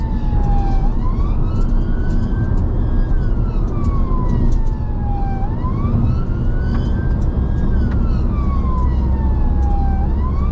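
A UK ambulance siren wails in slow rising and falling sweeps, loud and steady, over the rumble of rush hour traffic.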